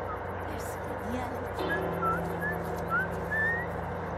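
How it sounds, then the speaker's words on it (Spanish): A character whistles in The Last of Us, a series of short, thin rising notes repeated over a steady droning game background, with someone talking quietly. "Estoy silbando."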